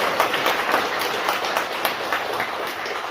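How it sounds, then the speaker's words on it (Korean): Warm, sustained applause fills the ground-floor chapel of a church education centre in Seoul after a talk at a Catholic Mass, many hands clapping steadily and densely for several seconds with no speech. "다시 한번 우리 한성수 요셉 변호사님께 뜨거운 박수 부탁드리겠습니다"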